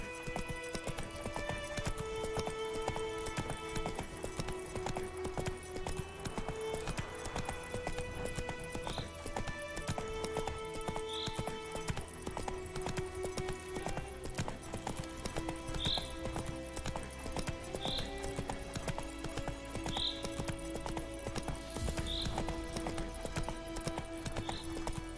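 Steady clip-clop of a horse's hooves at a trot in The Witcher 3 video game, rhythmic and continuous over in-game music and ambient tones, with occasional tack or effect sounds.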